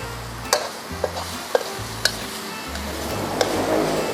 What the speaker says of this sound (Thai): เพียงแค่ใส่ไก่ใส่น้ำซอสผัดเข้ากัน